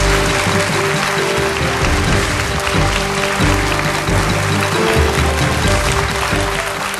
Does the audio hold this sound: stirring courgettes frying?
no